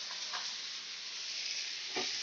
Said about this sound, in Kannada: ಇವಾಗ ಇವು ಚೆನ್ನಾಗಿ ಹುರ್ಕೋಬೇಕು